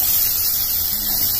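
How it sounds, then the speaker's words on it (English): Onions sizzle in hot oil with hing and dried red chilies, giving a steady, close, loud hiss of frying throughout. "Onion is frying."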